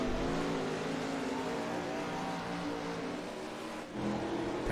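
410 sprint car racing engines roar steadily in a sustained, loud drone with layered engine harmonics, several cars running together on a dirt track with no break in the noise.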